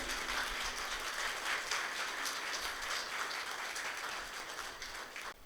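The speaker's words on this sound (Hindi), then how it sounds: "ताली बजते रहना चाहिए।" Faint, steady applause from a congregation during a welcome at a church assembly inauguration program, distant and continuous before fading slightly at the end.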